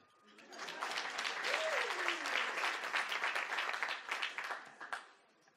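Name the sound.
audience applause at a graduation ceremony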